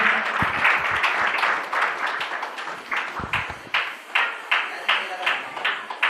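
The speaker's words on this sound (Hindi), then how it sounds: "तालियां बजा रहे हैं।" An audience claps to welcome guests at a community gathering, a steady patter of hands with distinct claps standing out, while a voice speaks over the applause.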